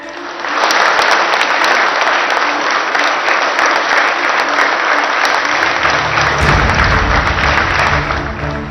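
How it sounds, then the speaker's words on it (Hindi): Loud, dense applause from a crowd greeting ISRO scientists after the Chandrayaan-3 success, a continuous roar of clapping with crowd noise and low thumps building toward the end. "भारत माता के जयकारों और तालियों की गूंज"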